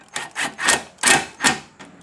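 Ground wire being bolted onto a horn bracket on a 2022-or-newer Subaru WRX, heard as six short close metallic clicks and ratchet strokes in an uneven rhythm, with no talking.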